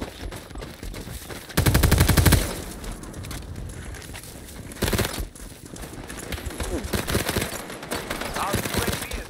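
Gunfire in the World War 3 shooter during a Berlin battle, a loud burst of rapid automatic fire followed by scattered shots and clatter, with voices calling out over the fighting.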